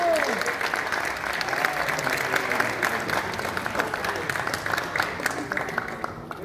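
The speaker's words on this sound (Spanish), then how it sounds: "Fuerte el aplauso para la majestuosa Lin-May." An audience applauds a performer being introduced at a cast presentation, with dense continuous clapping and a few whistles while an announcer's voice rings out over it.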